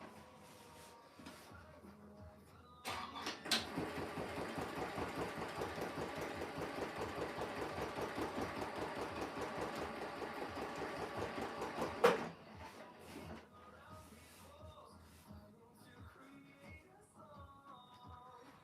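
Sewing machine quilting with clear thread in both the top spool and the bobbin, running steadily for about nine seconds with a dense, rapid stitching rhythm, then stopping, with quieter handling sounds before and after.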